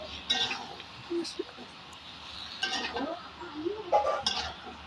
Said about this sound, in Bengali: দিয়ে দেওয়ার পরে সুন্দর করে নাড়াচাড়া করে মশলার সঙ্গে ঢাকনা কুমড়োটা সুন্দর করে মিক্সড করে নেবে